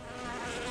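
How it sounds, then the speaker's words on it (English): A massive swarm of bees pouring out of a knocked beehive in the video game Goddess of Victory Nikke, heard as a dense, steady, close buzzing that fills a brief moment. "a massive swarm of bees pours out of the beehive"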